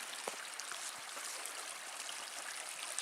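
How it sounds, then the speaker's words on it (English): A forest stream on a Lake Superior backpacking trail rushes and babbles in a steady, even wash of flowing water, close and continuous, with no voices. "Now, this has got to be the nicest stream so far in this trail"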